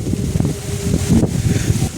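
Wind gusts across an open field during light rain after a storm, a steady low rushing and buffeting close to the microphone with no voices.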